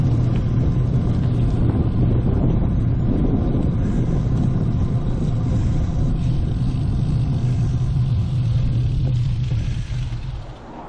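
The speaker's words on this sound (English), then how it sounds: "I can hear the sound of traffic from the motorway off in that direction." Steady traffic rumble from the M7 motorway in Ireland, heard at a distance near the Nore Bridge on a rural back-road route, a constant low drone that holds loud throughout and eases off slightly at the end.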